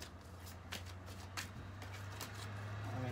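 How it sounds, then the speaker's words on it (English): A tarot deck is shuffled in a few soft, brief riffling bursts spaced about a second apart, quiet and near over a low background hum. "going to just shuffle a little bit and then I'll cut the deck"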